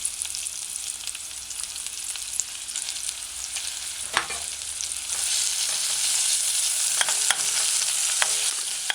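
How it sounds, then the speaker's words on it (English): Chopped onions sauteing in hot oil for a chicken, mushroom and coconut stew give a steady, close sizzle, with a few sharp stirring clicks and a denser crackle in the second half. "add your chopped onions to the other side in the eating oil and allow it to saute"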